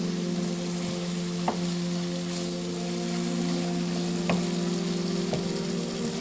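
Spices for butter chicken fry in a pan over medium heat, giving a steady, even sizzle with a low hum and a few faint clicks, with no talking.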